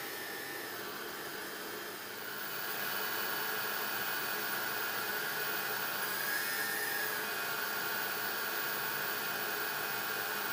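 A carburetor from a Gilera Runner scooter being cleaned in a loud ultrasonic cleaner, giving a steady broadband hiss and hum that rises after a couple of seconds and then holds constant, close and without talk.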